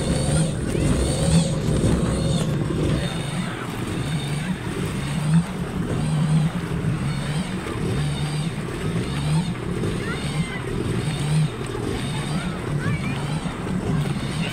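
A freshly rebuilt jet ski engine idles steadily through its break-in on a sea trial, a continuous close mechanical drone with slight pulsing throughout while a voice talks over it.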